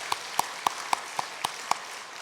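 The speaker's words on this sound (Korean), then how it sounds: "잠깐 자리에서 일어나시면 박수로 환영하도록 하겠습니다." A church congregation claps to welcome newcomers during a Sunday service: seven sharp, evenly spaced claps in steady unison rhythm, moderately distant, over a quiet room hum.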